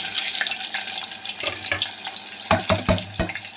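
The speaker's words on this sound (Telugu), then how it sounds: "ఉల్లిపాయ ముక్కలు అయితే ఫ్రై అయిపోయినాయి" Onion pieces fry in a pan in a home kitchen, giving a steady close sizzle with scattered crackles and a few sharper clatters of utensil against pan toward the end.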